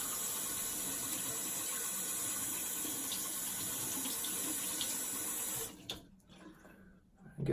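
Tap water runs steadily into a sink while wetting the face during a shave, a continuous close splashing stream that cuts off after about six seconds, leaving softer handling sounds.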